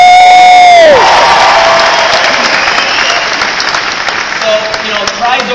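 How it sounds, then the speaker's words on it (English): A falling musical tone cuts off, then a large audience at a nutrition science panel bursts into loud, sustained applause with cheers and whoops, gradually thinning toward the end. "Round of applause."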